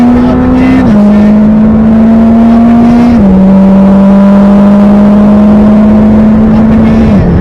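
Supercar at full throttle on the Silverstone track, a loud close engine drone climbing steadily in pitch with two brief drops at gear changes, heard from inside the car.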